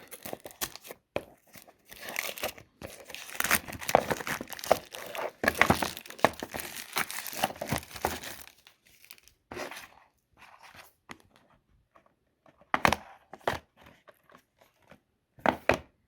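Packaging of a cheap i11 TWS wireless earbuds set being opened: bursts of tearing, crinkling and crunching from the box and wrapping, busy for the first half, then sparser scattered rustles and snaps, close and fairly loud.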